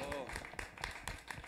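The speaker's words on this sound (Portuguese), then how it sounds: "Palmas pra ele." Steady rhythmic hand clapping for a singer at a live charity event, with talk over it.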